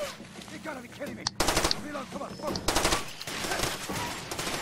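Automatic gunfire in Far Cry 2 rattles in rapid repeated bursts, loud and close, with someone talking in between and under the shooting.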